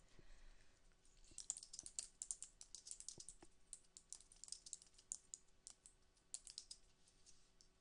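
A steady run of quick, light computer keyboard keystrokes while entering a Google search, close and soft with a continuous rapid rhythm and no voices.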